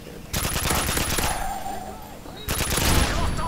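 Rapid automatic gunfire in a Call of Duty multiplayer match, two loud sustained bursts of quick shots separated by a short lull.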